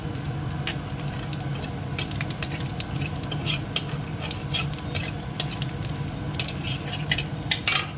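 Dried chilli and a little cumin fry in oil in a pan after prawns, with a steady low sizzle under frequent clinks and scrapes of a utensil stirring against the metal.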